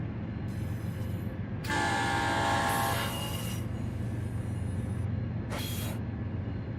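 A Nathan K3 train horn on a BNSF locomotive in the Run 8 train simulator, sounding two loud sustained blasts followed by a short third one over a steady low rumble of the train rolling along the rails.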